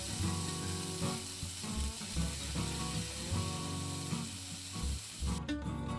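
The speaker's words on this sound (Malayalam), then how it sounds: "കുറച്ച് ഒലിവ് ഓയിൽ ചേർത്താണ് ചിക്കൻ പൊരിച്ചത്." Chicken pieces fry in a little olive oil in a pan, a loud continuous close sizzle with bubbling and a few scraping clicks throughout.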